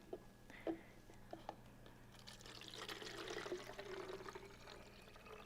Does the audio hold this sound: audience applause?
no